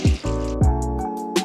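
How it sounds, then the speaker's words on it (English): A cup of water is poured into chocolate cake ingredients in a pan, giving short close glugs and splashy drips in a few quick bursts. "add 1 cup of water"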